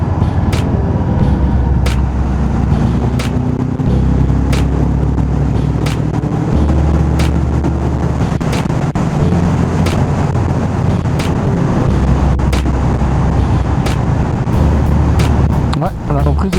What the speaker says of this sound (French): Le bruit du l'échappement est très silencieux.